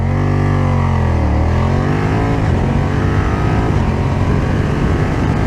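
A 2020 BMW F900R motorcycle in 48 hp A2 trim accelerates hard from 0 to 100 km/h, its engine loud and close, revving up sharply through the gears.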